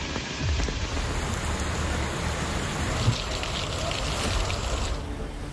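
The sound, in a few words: monsoon rain falling in Noida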